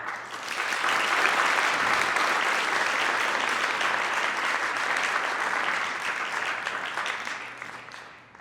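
An audience at an evening library talk on magazines breaks into sustained applause to welcome a speaker, dense clapping that holds steady for several seconds before tapering off.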